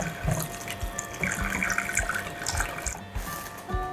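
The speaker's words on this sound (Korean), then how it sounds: "여기 한 500에서 600? 이렇게 물 조금 넣고 잘 풀어주세요." Water runs steadily from a kitchen tap into a pot for doenjang stew, a continuous splashing flow with brief dips, close by and without talk.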